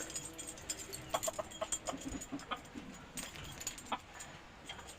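Jungle fowl cluck in short, irregular bursts amid faint rustling and clinking in a Hmong village, fairly quiet and close by.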